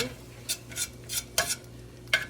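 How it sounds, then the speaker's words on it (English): Diced garlic being stirred into cooking onions in a pan for a stuffed cabbage casserole: a spoon scrapes the pan in five or six separate strokes over a faint steady sizzle, with no talking. "Okay, stir that in too."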